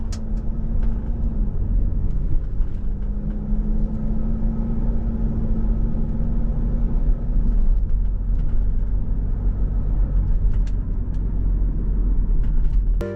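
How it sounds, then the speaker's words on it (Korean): Kia Grand Carnival on a test drive, with a steady low rumble of road and underbody noise throughout as the minivan rolls over speed bumps, plus a faint engine drone and occasional light knocks. "방지턱 넘을 때를 집중적으로 하부 소음도 잘 들어주세요"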